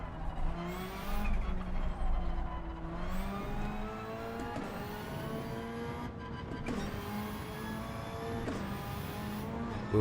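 A race car in Gran Turismo 7 sliding under braking, its engine note dropping and rising through downshifts with tyre scrub beneath, steady and moderately loud with no talk.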